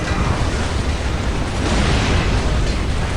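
Grenade blasts in the Space Marine video game running the Crucible mod: a loud, continuous wall of explosive rumble and crackle with no gaps, dense and close throughout.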